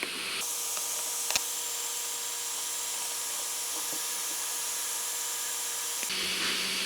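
A 3D printer printing a plastic piston for an air engine gives off a steady, high-pitched mechanical whine with tonal stepper-motor hum, running constantly at moderate volume and stopping near the end.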